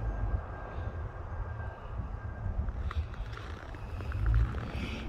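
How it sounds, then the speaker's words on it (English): Steady broadband roar of wind buffeting outdoors on a cold morning in northern Alberta, Canada, with low rumbling gusts that swell near the end; no voices. "As you can see by the flags, it's a very windy morning."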